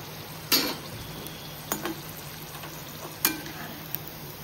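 Corn bhaji fritters fry in hot oil with a steady, soft sizzle throughout, broken by a few sharp clicks and scrapes of a utensil against the pan.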